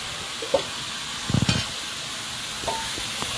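Meat sautés with spices in a pan, giving a faint, steady hiss broken by a few soft clicks and scrapes of stirring.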